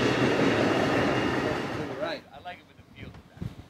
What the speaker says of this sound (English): There's a train going by, so that's what you're hearing in the background.